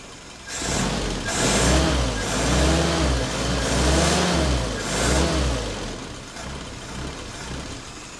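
A Willys Jeep engine revs sharply each time the accelerator is lightly touched, rising and falling in several close, loud bursts over a steady idle, with no talking.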